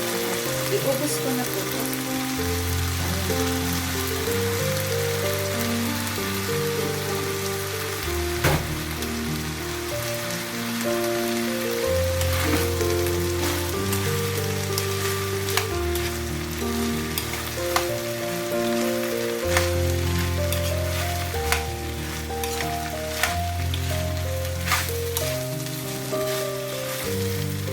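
Red rice frying and being stirred in a pan for pork chao fan, a steady close sizzle with scraping, under gentle background music and a brief spoken line.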